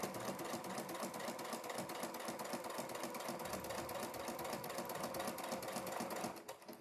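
A sewing machine stitches quilt binding on a triangle quilt in a steady, continuous run of close mechanical chatter, loud and unbroken, easing off only at the very end.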